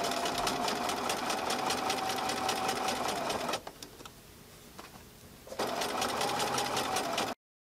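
A sewing machine stitches a tote bag with a loud, steady mechanical whir. It stops briefly partway through, with a few faint clicks, then runs again at full speed. No one speaks.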